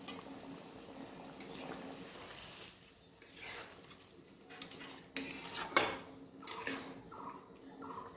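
Fish curry with fried flattened rice and bay leaves simmers in a pot over a gas flame, giving a soft, steady bubbling with occasional utensil clinks and stirring scrapes.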